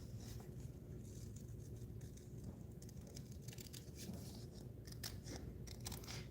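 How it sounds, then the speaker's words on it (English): Quiet, crisp snips of scissors cutting paper, a few scattered cuts coming faster toward the end over a low steady background hum. "Oops, scissors."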